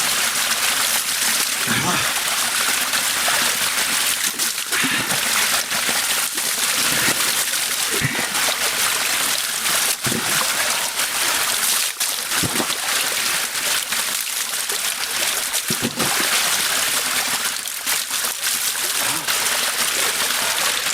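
A forest stream flows steadily, a broad continuous rush of water close by with occasional splashes, while someone talks over it at times.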